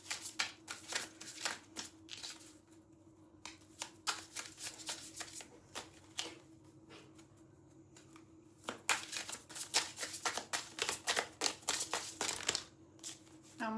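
Tarot cards shuffled by hand, crisp riffling bursts and soft slaps in uneven clusters, close and fairly quiet, with a short lull midway and no talk.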